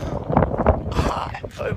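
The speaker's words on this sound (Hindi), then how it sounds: "ओए बहुत तेज हवा।" Strong wind during rain buffets the microphone in gusty rumbles while someone shouts over it.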